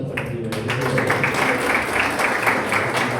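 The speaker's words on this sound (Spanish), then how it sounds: "Un aplauso para Subey." An audience applauds for a person named Subey at a church gathering, with a steady, dense patter of many hands clapping together, fairly loud and continuous throughout.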